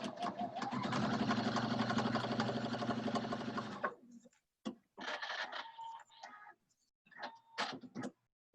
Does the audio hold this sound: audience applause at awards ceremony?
no